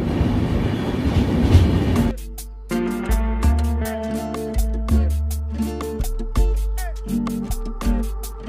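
A passenger train runs on rails between Alappuzha and Chennai, its wheels beating a steady, evenly spaced clickety-clack over the rail joints, heard close from inside the carriage after a stretch of rushing rumble.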